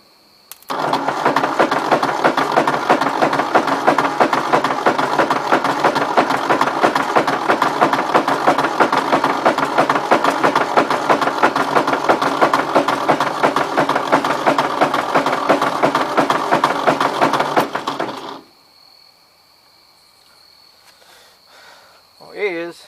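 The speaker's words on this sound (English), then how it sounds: "this motor just doesn't sound happy" A 1953 Ford Jubilee tractor engine runs roughly and unevenly, loud and close, with a steady churning din for about seventeen seconds before it cuts out, leaving quiet with faint knocks.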